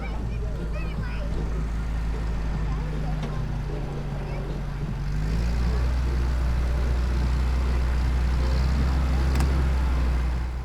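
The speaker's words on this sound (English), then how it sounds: "This Jeep was reluctant to engage first gear on its 3-speed box." A Jeep with a 3-speed gearbox that is reluctant to engage first gear, at a Park in the Park vehicle show in Enderby, rumbles steadily up close, with its engine note dropping and shifting midway.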